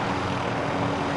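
Helicopter in a video game flying nearby, a steady loud rotor and engine drone with no break.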